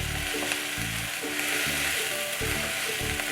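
Spices and red chili powder roasting in a kadhai with green onion give a steady, close sizzle, with stirring strokes scraping through the oil in a regular rhythm.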